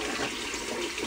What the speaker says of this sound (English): I'm taking a handful of water, cupping it, drinking it, not swallowing it, and spitting it back out to get all that residue of toothpaste off.